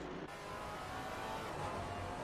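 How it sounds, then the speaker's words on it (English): A Maserati GT race car at Oulton Park roars past with a dense, sustained engine howl, steady and fairly strong throughout with no voices. "Tom O'Farrell's amazing sounding Maserati chasing behind"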